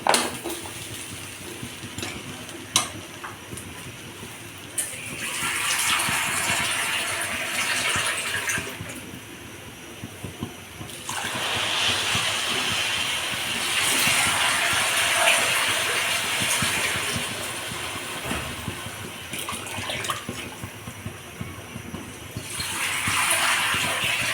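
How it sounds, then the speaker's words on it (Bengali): Water poured into a pot of frying khichuri rice, a steady gushing, hissing rush that comes in long surges with mechanical clicks in between, fairly loud and close, no talking. "এটাতেও আমি এখন পানি দিয়ে দেব পরিমাণ মতো"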